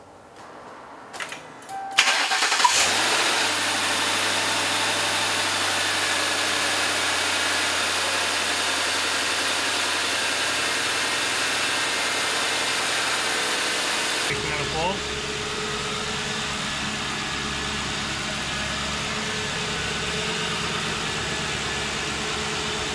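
A squad car engine cranks and catches after a few seconds, then settles into a steady, close idle that runs on with a slight shift in tone partway through.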